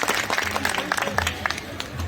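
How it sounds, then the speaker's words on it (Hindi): Audience applause at a rally honouring Vivekananda's birth anniversary in Bahadurganj, Ballia, a steady crowd of clapping with a murmur of voices underneath, continuous throughout at moderate loudness. "सभी समारोह में उपस्थित भाई देवियों सज्जनों ताली बजाकर उनके स्मरण को प्रणाम करेंगे।"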